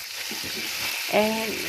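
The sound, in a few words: stirring salted-butter caramel in a pan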